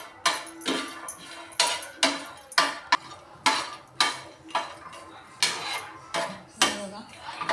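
A utensil repeatedly scrapes and clinks against a pan and plate as roasted black sesame seeds are moved onto a plate, sharp metallic strokes coming about once per second, close and fairly loud.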